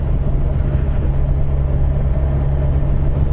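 A Kawasaki Z1000SX motorcycle engine runs steadily at low revs around 2000 rpm, a loud, close, continuous low rumble with no speech.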